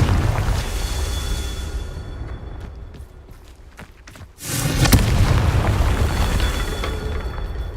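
A Confringo spell blast in Hogwarts Legacy erupts as a sudden loud boom after scattered light footsteps, then lingers as a dense, sustained rumble.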